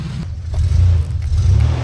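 Mazda Ranger pickup with a 4.0 V6 and factory 5-speed manual, its engine rumbling loud and close in a low steady drone that swells briefly as it revs, no talking.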